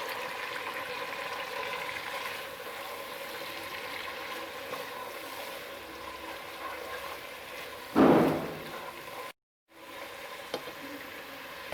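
Fried onions are tipped into a pot of slow-cooked, tender mutton for aloo gosht, giving one short burst of sizzling over a steady low simmer. No one speaks.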